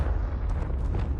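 Spell explosion from Confringo in the Hogwarts Legacy video game, a sustained low rumbling blast with crackling bursts, moderately loud and alone.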